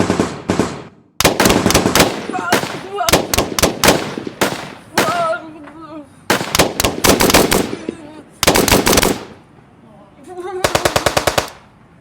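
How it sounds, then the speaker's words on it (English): Rapid bursts of gunfire from a student film, loud machine-gun rattles and single shots separated by short gaps, some bursts ringing out longer, with no talking over them. "Then I took out my gun and I shot them a gazillion times."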